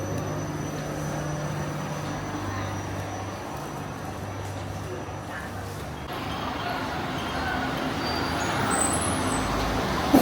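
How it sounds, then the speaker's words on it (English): A quiet electric bus driving along a street in Guangdong, China, giving a steady low rolling hum of tyres and road noise with no engine roar, with traffic sounds around it throughout. "The bus is electric, so it's very quiet and doesn't have the loud noise or unpleasant smell of a traditional bus."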